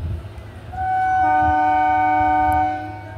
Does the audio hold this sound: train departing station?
yes